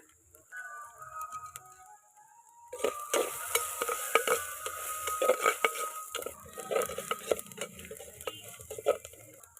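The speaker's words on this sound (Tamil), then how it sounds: "மிளகு, சிறிய சீரகம், பூண்டை நசுக்கி வச்சுருக்கணும். நசுங்கின பிறகு அதை போட்டு ஃப்ரை பண்ணிடுங்க." Crushed black pepper, cumin and garlic frying in a pan for village-style rasam: quiet at first, then a sudden burst of close sizzling with scattered scraping and stirring clinks.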